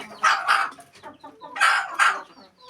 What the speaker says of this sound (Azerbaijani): Xoruz toyuğu döyür. Bunlar yaman bir-birlərini döyməyə başlayıb.